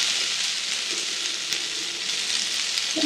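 Tomatoes sizzle and fry steadily in a pan for a prawn vindaloo, a continuous close hiss with no pauses and no voices over it.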